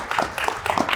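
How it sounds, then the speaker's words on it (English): Round of applause at a press conference announcing a Morristown, Morris County entertainment football team, honoring Hall of Famer Commissioner Andre; a short burst of steady crowd clapping close by. "Let's give him one more round of applause"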